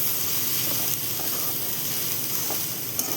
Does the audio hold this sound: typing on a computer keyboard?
no